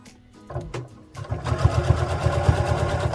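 A sewing machine back stitches on a bear sewing project using a quarter-inch foot, a few brief stop-start bursts followed by a steady close rhythmic whirring run.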